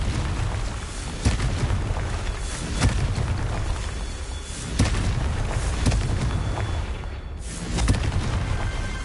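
Explosions from the Confringo blasting spell in a wizarding video game, several booming blasts spaced a few seconds apart over a rumbling, noisy background.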